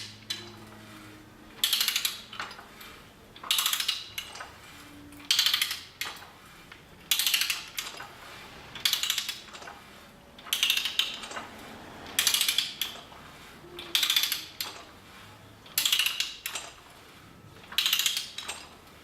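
A Garrick hand ratchet pipe threader cutting thread on pipe, with about ten evenly spaced bursts of metallic pawl clicking, each stroke close and crisp, separated by short quieter gaps.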